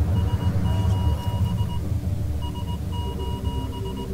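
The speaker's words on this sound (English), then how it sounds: "I don't know Morse code, but I know that's SOS" Morse code SOS beeps in a simulator video game during a tsunami warning: steady intermittent tones of short and long pulses repeat over a constant low engine-like rumble.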